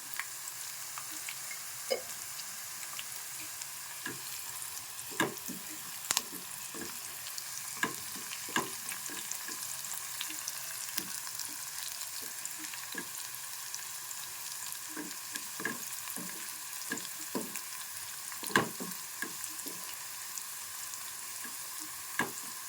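Tempering seeds crackle and fry in hot oil for okra stir-fry, a steady sizzle broken by frequent sharp pops and spits, close and alone with no talking.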